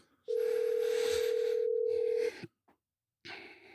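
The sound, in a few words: telephone ringing tone while calling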